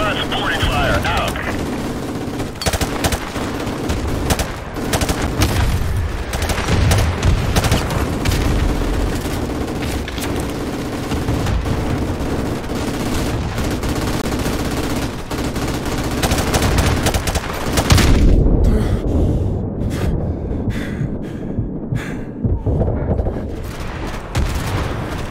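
Call of Duty 4: Modern Warfare Remastered battle gunfire. Dense, continuous bursts of automatic fire and rattling shots are mixed with booms, loud and close throughout, with radio-style voices talking over them.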